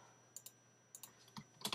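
Keys clatter on a computer keyboard in short separate bursts of a few quick clicks, close and fairly quiet with no talking.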